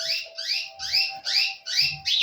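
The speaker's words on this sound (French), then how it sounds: "Et on entend l'oiseau aussi" A bird sings outdoors in a series of about six clear, repeated whistled phrases, evenly spaced and fairly close, with a faint steady hum underneath.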